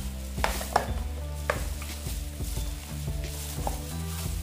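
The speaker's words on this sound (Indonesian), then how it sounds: "Kita aduk kembali ya teman-teman, karena" A spatula scrapes and clinks against a pan while chicken wings are stirred, with repeated knocks over a steady sizzle close by.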